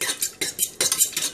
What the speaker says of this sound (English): So of course we're just going to mix it.